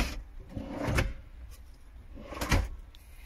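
Wooden drawers in a DIY side cabinet of a VW T5 Transporter camper conversion sliding open and shut, a few soft knocks and thumps close by with quiet pauses between.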